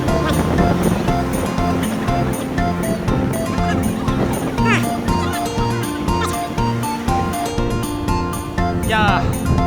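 Ocean waves pounding a rocky shore on an overcast day in Colombo, Sri Lanka, a loud continuous wash of surf with wind noise, mixed with people's voices close by.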